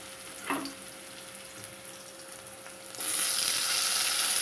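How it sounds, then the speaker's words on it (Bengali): Onion and tomato frying in oil in a pan for a Bengali egg curry, a soft steady sizzle with a brief scrape early on, then the frying grows suddenly louder and hissier. "টমেটোটা দিয়ে আর একটু ভেজে নেব"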